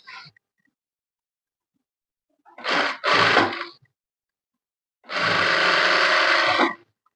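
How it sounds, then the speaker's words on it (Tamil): A sewing machine sews a folded edge of soft skirt fabric in short runs: a brief burst, then two bursts close together, then one long steady run of about two seconds, each separated by silence. "நான் இந்த ஓரத்துல மடிச்சு தைக்கிறேன்"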